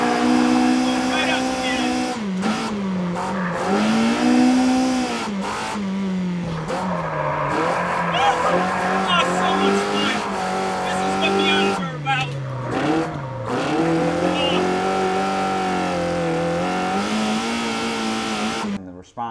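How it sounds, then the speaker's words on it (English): A loud Miata race car engine with individual throttle bodies revs and climbs through gears with sharp throttle blips and raspy intake roar, close by and continuous. "It's the noise and the excitement from the throttle bodies."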